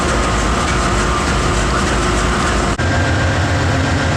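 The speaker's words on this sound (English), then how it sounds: "It's a long train." Loud, continuous rumble and clatter of a long nine-car Amtrak passenger train rolling along rails close by, with a steady mechanical roar and no voices.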